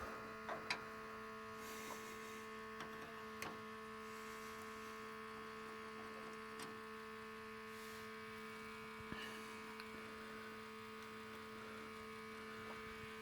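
An oil pump on an electric vehicle runs with a steady, unbroken electric hum and buzz throughout, with a few faint clicks and taps over it and no talking.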